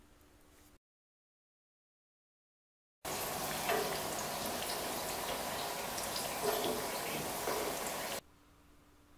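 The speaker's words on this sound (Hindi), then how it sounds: "ठेकवा सुनहरा होने तक तलें" Steady sizzling and crackling of thekua frying in hot oil in a kadhai, a dense bubbling hiss lasting several seconds after a brief silence, then dropping away.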